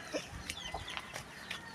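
Farm chickens cluck in short, scattered bursts close by, several brief calls overlapping against a noisy outdoor background.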